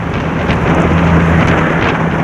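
Strong wind roaring past a rider on a road, a loud, constant buffeting rush with a heavy low rumble and no talking.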